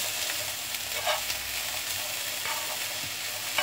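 A steady crackling sizzle of an egg wrap frying in a pan, close and continuous, with occasional faint scraping clicks.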